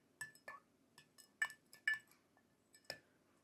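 A spoon clinks in a cup as powdered tree bark is stirred into water: about eight quick, bright taps in an irregular rhythm, close and fairly faint, over a quiet background with no speech.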